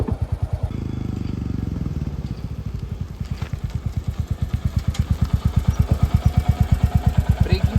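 Royal Enfield Hunter 350 motorcycle being ridden, its single-cylinder engine thumping in a steady, loud, close pulse that quickens slightly as it pulls away, with no talk over it.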